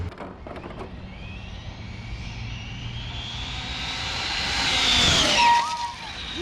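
An Arrma Felony RC car tearing past at full speed, a high whining motor that rises in pitch and loudness as it approaches, peaks close by, then drops away.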